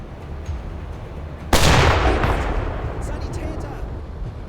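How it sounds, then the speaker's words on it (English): A U-boat deck gun in a video game fires a single loud, sharp shot at a ship, followed by a rumbling blast that slowly fades over steady background noise. "as fun as it is to shoot them like this with the deck gun"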